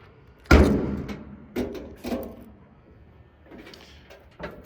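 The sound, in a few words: trunk of a 1972 Chevrolet Chevelle being popped open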